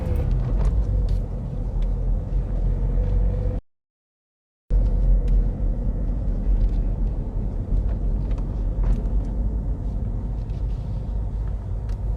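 A learner driver's car creeps slowly out past parked cars under careful clutch control, giving a low, steady engine rumble up close that cuts out briefly near the start before resuming.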